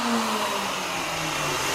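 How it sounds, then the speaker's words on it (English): A handheld wood router with its bit freshly tightened runs alone at a steady pitch, a continuous mid-loud whine that drifts slightly lower over the short stretch. "got my router bit all tightened up on there and everything, and it works"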